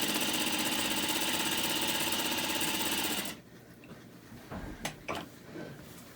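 A sewing machine runs at a steady fast speed for about three seconds, giving a dense, continuous mechanical whir up close. It then stops, and a few quieter clicks and knocks follow.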